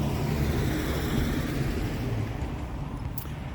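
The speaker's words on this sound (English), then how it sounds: "FedEx truck going by, so that was kind of loud." A FedEx delivery truck rolls past close by, a loud, steady broadband rumble that holds for several seconds and eases slightly toward the end.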